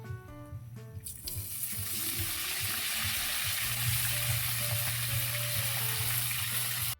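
Close, loud, continuous sizzling as food fries in a pan for a sautéed bamboo-shoot dish, with faint stirring scrapes and no talking.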